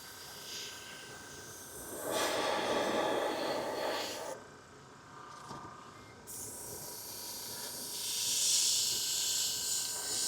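An airbrush spraying paint onto a 3D printed Punisher Mandalorian cosplay helmet, giving steady airy hissing bursts that swell, cut out briefly, then return louder, with no talking.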